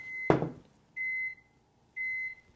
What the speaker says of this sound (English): The microwave always tells you when it's ready, and if you don't get it, it'd make it another sound again.